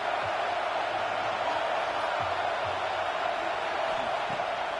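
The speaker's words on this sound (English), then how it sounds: "Decibels rising as the crowd gets behind this defense on 3rd down." Stadium crowd noise in the NCAA 26 college football video game during a third-down defensive stand: a steady, dense roar that stays loud throughout, with a voice faintly underneath.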